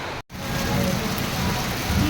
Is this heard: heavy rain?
yes